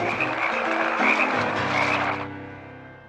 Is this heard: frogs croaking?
yes